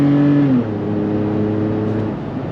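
2022 Toyota 4Runner TRD Pro on Nitto off-road tires pulling away from a traffic light, engine tone rising then dropping at a shift, followed by a steady drone and road noise heard from the cabin.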